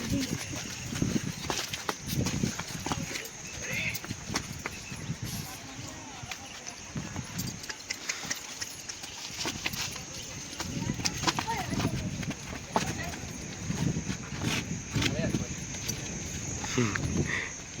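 Hooves of a bridled mare clop steadily on hard ground in an irregular walking rhythm as she is led out, fairly close, with voices talking intermittently over them.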